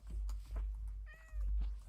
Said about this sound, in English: are there cats in villages now? It's a village cat.